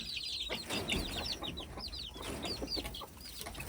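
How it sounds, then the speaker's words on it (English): Big hens clucking close by, a busy overlapping run of short chirpy clucks and calls over a low background rumble. "So guys, these are the big hens, yes."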